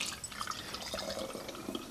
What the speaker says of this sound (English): I'll just add some water to this and shake it up